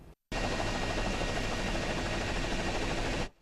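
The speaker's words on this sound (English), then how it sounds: "Mark Becker watched the entire rescue from above in a helicopter" A news helicopter hovers above a construction site rescue, its loud broadband engine and rotor roar starting abruptly after a short silence and holding steady before cutting off.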